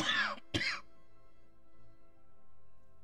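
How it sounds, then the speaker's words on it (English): Two short, harsh coughs or throat-clearing bursts from someone with bronchitis, close and fairly loud, the second a sharp burst, followed by a quiet room hum. "Yeah, forgive my coughing,"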